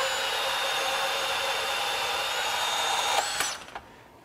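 A DeWalt DCS377 Atomic 20V brushless 1-3/4" compact band saw cuts through rebar. Its steady high whine runs loud and close for about three seconds, then the blade breaks through and the motor winds down. No speech.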